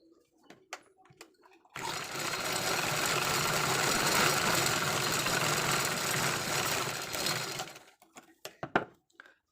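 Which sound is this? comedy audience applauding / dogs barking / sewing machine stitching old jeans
sewing machine stitching old jeans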